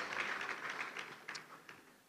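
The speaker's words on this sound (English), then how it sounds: "A round of applause." Faint, thin applause from a conference audience at an e-learning event, scattered claps fading over two seconds.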